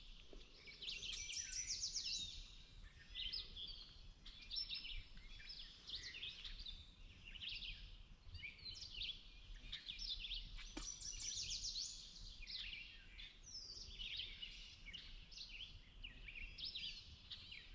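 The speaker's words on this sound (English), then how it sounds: "Hearing lots of birds." Many birds call and chirp continuously around a wetlands pond on a misty state park trail, overlapping high-pitched twitters at moderate distance over soft outdoor ambience, with no talking.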